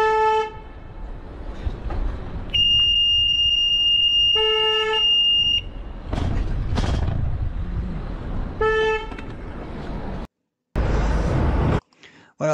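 Car horns honk in road traffic: short bursts of repeated beeps alternate with one long sustained blast, all loud and close over a rumbling street background.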